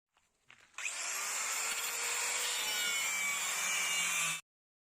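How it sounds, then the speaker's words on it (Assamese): A power drill grinds through jammed wheel bolts on a car during a tyre change, starting after a few faint knocks and then running as one loud, steady, high whine that stops abruptly. "সেইকাৰণে ড্ৰিল মেচিনেৰে কাটিব লগা হ'ল।"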